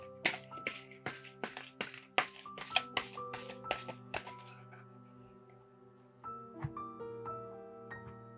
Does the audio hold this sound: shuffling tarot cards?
yes